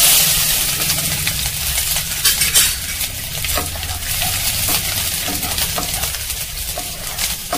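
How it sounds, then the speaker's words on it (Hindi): Ginger fries in hot mustard oil in a pan with a steady, loud, bright sizzle and occasional stirring clatter, close by with no talking. "तेल गर्म हो गया है और मैं इसमें सबसे पहले अदरक डालूंगी।"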